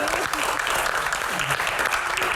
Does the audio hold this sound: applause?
yes